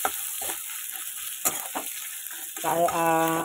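Ginger, cumin, and green and dried chillies sizzle as a tempering in hot oil, a steady crackling fry with a few sharp spatula scrapes, swelling louder near the end.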